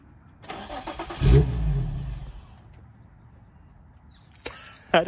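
A 2006 Infiniti G35 engine starting after a few clicks, a brief cranking burst that catches into a steady mid-pitched idle, then fades, with later clicks and a beep nearby.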